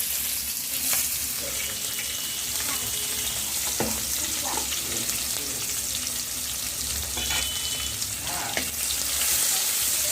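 Chopped onion and bay leaf frying in a hot pan, a steady loud sizzle with occasional stirring clinks and scrapes throughout, no talking.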